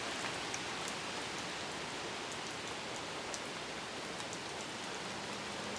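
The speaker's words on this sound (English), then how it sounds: "And the rain's beginning to pick back up again." Rain falling steadily during a thunderstorm in Larned, a dense, even hiss of drops on surfaces with scattered brighter patters, constant throughout and no thunder evident.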